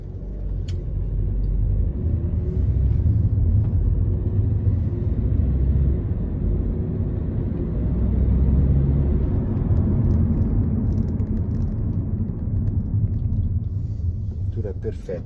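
A Mercedes B180 Sport AMG with automatic transmission drones with a low, steady engine and road rumble while driving, heard from inside the cabin as a continuous hum.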